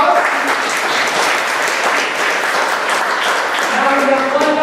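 Audience applause at a live show in Wareham, Massachusetts, a steady dense wash of clapping from a crowd that holds at full strength for several seconds, with a few cheers and voices mixed in.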